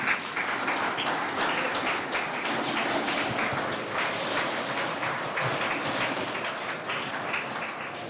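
Steady, dense applause from a class of students, continuous and loud throughout with no pauses.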